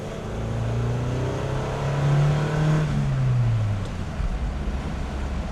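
A 2001 Nissan Silvia S15 Spec S engine revs and climbs, then drops away through a downshift, heard steadily from inside the car with road and wind rumble beneath it.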